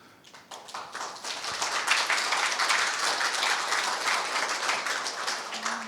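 Audience applause at a lecture on Korean reunification policy, a dense, steady wash of many hands clapping that builds within the first second and holds evenly throughout.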